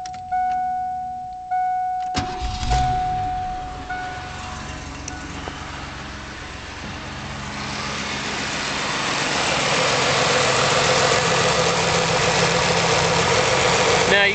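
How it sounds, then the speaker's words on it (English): A car engine cranks and starts after a chime and a sharp click, then settles into a steady, moderately loud idle that builds slightly toward the end during an alternator check. "And then we're going to start the engine."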